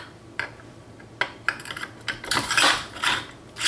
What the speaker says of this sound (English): Go ahead and take the bolt, reinsert that.